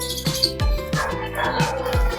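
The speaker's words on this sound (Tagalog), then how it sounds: "ang ingay pa ng mga aso" Several dogs barking in sharp repeated bursts, fairly near and loud, over a busy outdoor backdrop while vegetables are being sliced for chicken sinigang.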